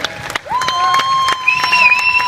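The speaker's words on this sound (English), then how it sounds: "Huge round of applause for these 5 competitors. Let them hear it." At a live stunt show at a theme park, a crowd claps and cheers, with scattered shouts and whistle-like whoops over short bursts of clapping, lively and fairly close.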